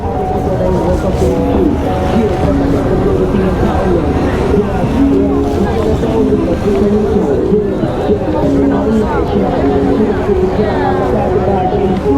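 Dense street crowd at Shibuya crossing in Tokyo, a steady loud wash of babble, footsteps and traffic hum, with someone talking close over it.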